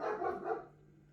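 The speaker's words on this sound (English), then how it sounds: "the dogs are barking again" Dogs barking indoors at home, a quick cluster of muffled barks at moderate distance that fades out within half a second, leaving a quiet room.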